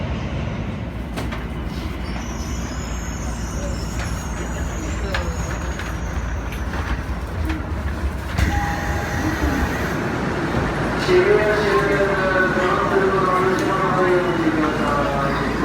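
A steady rumble of a Tokyo JR commuter train in motion, with rattling carriages and occasional high wheel squeals; voices murmur faintly in the background.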